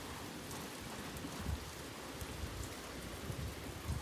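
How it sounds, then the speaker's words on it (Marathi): Heavy rain driven by wind pours steadily in a village, a dense continuous hiss with low gusty rumbles and a few louder bursts, no voices. "असा पाऊस पडू राहिलाय पुरा बेकार"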